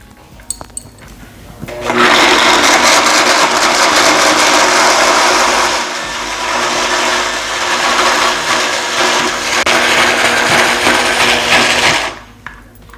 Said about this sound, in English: just use a regular blender and just put it on the highest speed that it can go, and just keep mixing